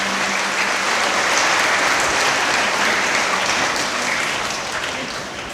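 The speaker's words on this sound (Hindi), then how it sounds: "हम लोग ताली मार करके माताओं को बधाई" A church congregation clapping for the mothers at a Sunday service, a dense, even roar of many hands that stays loud throughout and tapers slightly at the end.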